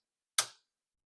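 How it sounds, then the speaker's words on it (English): A single sharp mechanical click as a microwave oven's door cam presses the door switch, one brief isolated snap in silence. "This cam actually physically switches this switch on and off when the door opens and closes."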